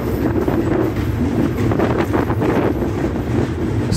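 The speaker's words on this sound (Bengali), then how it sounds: "ট্রেনের এই ধীর আওয়াজটাই যেন মধুর লাগে" Train rolling slowly across the Bangabandhu (Jamuna) Bridge at night, a continuous close rumble of wagons with faint rhythmic clatter and wind buffeting, no voices.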